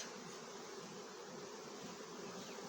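Honeybees hum inside a full hive body during an inspection, a faint, steady buzzing drone with no talk over it.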